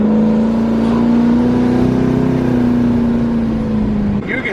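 A twin turbo Camaro ZL1 with a newly built 10-speed automatic drones loudly and steadily as it accelerates, its engine tone holding close and strong before easing off near the end.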